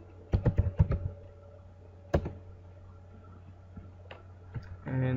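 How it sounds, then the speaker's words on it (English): Computer keyboard key presses, including the Print Screen key: a quick burst of several clicks, a lone sharp press after a pause, then a few softer taps, close and clear with no talking. "if I am pressing the print SCR button on my keyboard"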